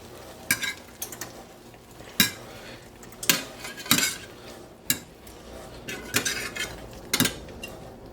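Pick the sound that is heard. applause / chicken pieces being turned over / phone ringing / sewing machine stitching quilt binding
chicken pieces being turned over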